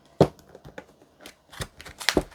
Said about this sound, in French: On va mélanger comme ça et couper en trois.